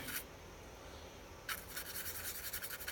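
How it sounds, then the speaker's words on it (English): A brush or palette knife mixes beige and black paint on a small palette, giving a faint close rubbing scrape, then a run of quick, rhythmic strokes. "I'm just mixing up some beige here with some black."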